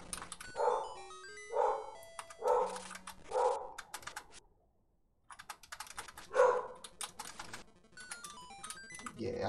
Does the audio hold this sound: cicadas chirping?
no